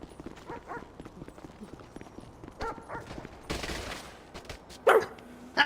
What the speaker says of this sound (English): You tackled your own dog